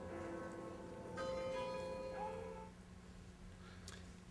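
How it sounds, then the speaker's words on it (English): Horse Guards clock in London chiming in an old recording, a single faint, sustained bell tone ringing out over steady low hum and background noise. "So you also hear the chime of the horse guard's clock in this."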